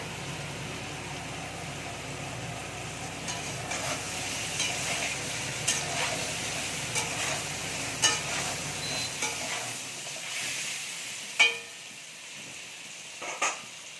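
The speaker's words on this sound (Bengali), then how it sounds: "আলুটাকে ভেজে নেব" Diced potatoes fry with turmeric and salt in a pan, a steady close sizzle with scattered stirring clicks that quiets in the final seconds, leaving a few soft scrapes.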